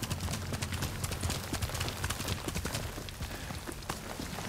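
Horse hooves pound rapidly in a steady galloping clip-clop rhythm from a Ghost of Tsushima ride, loud and continuous throughout with no voices over it.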